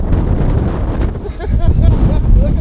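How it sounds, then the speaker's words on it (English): Strong wind gusting to around 60 mph buffets the microphone on frozen ice in a loud, continuous low roar, with faint voices partly buried beneath the gusts. "It's very windy."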